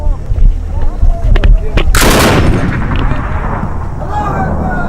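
A heavy machine gun fires a loud, rolling burst on an Afghan front line, rising sharply mid-clip over a constant rumble of distant battle noise.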